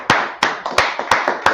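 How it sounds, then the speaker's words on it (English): Claps at a law class gathering indoors, five or six sharp slaps spaced roughly a third of a second apart, close and fairly loud with no talk. "Clap it up for the class."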